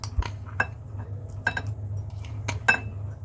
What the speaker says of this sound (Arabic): هجيب معايا طبق كبير، وابتدي